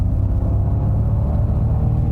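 A 2024 Ford Mustang Mach-E GT electric SUV launches at full throttle, a loud, steady low rumble of road and drivetrain noise heard from inside the cabin, without any speech.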